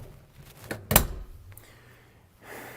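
A Vitri-Frigo fridge freezer drawer in a camper van is pulled open or pushed shut with a single sharp thunk, followed by faint sliding and rustling.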